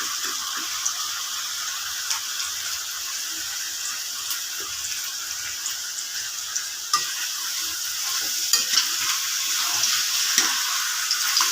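Tomatoes with chili powder and salt frying in a pan for a capsicum tomato egg gravy, a continuous soft sizzle with scattered scraping stirs, close and steady throughout.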